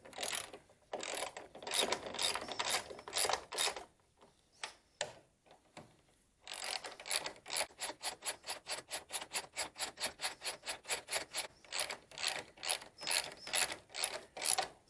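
A ratchet tightens bolts during a McPherson strut replacement on a car, sounding as rapid close clicking in bursts with a short pause midway, then a long steady run of even clicks, with no talking.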